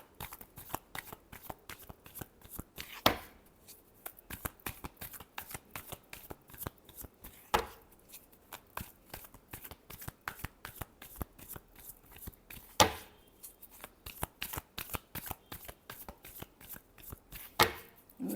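Tarot cards being shuffled by hand in a long run of quick papery riffles and slaps, with sharper louder bursts every few seconds, close and steady with no talk.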